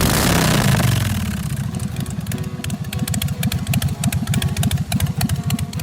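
A motorcycle engine starts with a roar and settles into a loud, rapid, throbbing idle with regular pulsing beats, close by.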